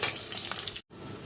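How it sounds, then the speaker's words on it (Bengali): Potatoes with five-spice seeds fry in a pan, giving a loud, close, hissing sizzle with scraping stir sounds. The sizzle breaks off briefly, then resumes. "তো আলুটা এখন ভাজা হচ্ছে।"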